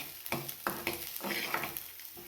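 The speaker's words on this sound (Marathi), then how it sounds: "आपण ही तेलामध्ये मटकी घातलेली आहे तर आपल्याला याला थोडंसं भाजून घ्यायचं आहे" Moth beans roasting in oil in a pan, stirred with a utensil: several distinct scraping strokes over a constant gentle sizzle, close and moderately quiet.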